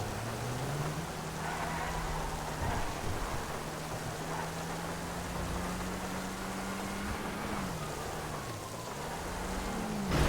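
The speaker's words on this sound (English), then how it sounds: "Because of that rain." Steady rain falls in the GTA Online video game, a dense continuous hiss over a low engine drone that rises and dips in pitch, with no voices throughout.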